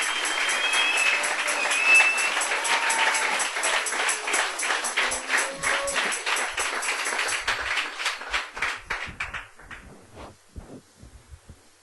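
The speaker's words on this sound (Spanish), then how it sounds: "Dele un aplauso fuerte al Señor." Congregation applause during a church worship service, loud sustained clapping from a crowd that swells early then gradually thins into scattered individual claps and fades out.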